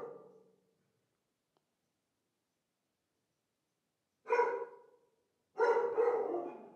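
A dog barking for attention, three separate barks with pauses between, the last one longer and louder, clear and close with no talking.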